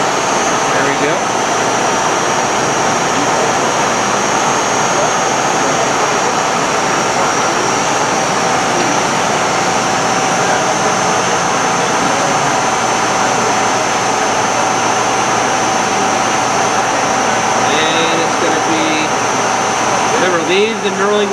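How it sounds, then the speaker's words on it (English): A metal lathe runs steadily while a knurling wheel presses into a spinning part with cutting oil, a loud continuous mechanical hum and whine with a faint rhythmic rasp throughout. "Leave the knurling wheel on the part."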